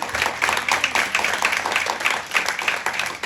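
A church congregation claps together in praise, dense rhythmic clapping from a crowd in a hall, steady and fairly loud throughout.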